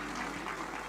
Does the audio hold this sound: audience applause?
yes